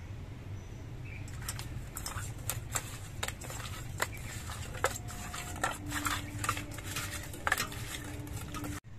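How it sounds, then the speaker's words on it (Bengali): Pieces of bata fish are rubbed with salt and turmeric by hand, giving soft squelching and scraping with sharp clinks against a bowl in an irregular rhythm, fairly close and quiet. "এবার এই মাছের মধ্যে আমি নুন আর হলুদ মাখিয়ে নিচ্ছি।"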